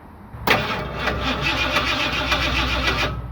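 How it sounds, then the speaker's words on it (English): A $200 vehicle's engine cranks over with a sudden start, then a steady, loud, continuous chugging drone that holds for a few seconds close by. "She cranks, so that's good."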